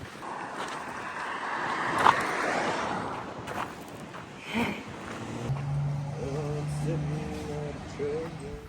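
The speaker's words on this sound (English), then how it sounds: "Freaking windy down here too." Wind blows on a sunny day on the Pacific Crest Trail, roaring and buffeting the microphone in steady gusts, with a brief louder thump partway through.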